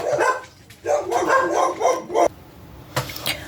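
Several dogs bark in quick bursts, close and loud, with short pauses between the volleys.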